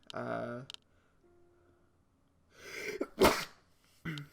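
A person talks briefly, then lets out one loud, close sneeze with a sharp burst, and speaks again right after.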